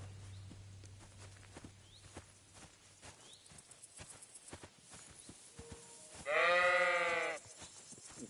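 A sheep in the video game Kingdom Come: Deliverance 2 gives one loud, drawn-out bleat near the end, after quiet ambient sounds with light hoof-like clops.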